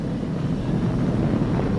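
A SpaceX Falcon 9 carrying a crewed Dragon spacecraft gives a dense, steady broadband roar at launch, loud and continuous, with no voices over it.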